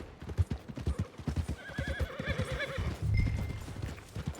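A horse at the stables in the Red Dead Redemption 2 video game whinnies in a loud, wavering neigh over steady close hoof clip-clops.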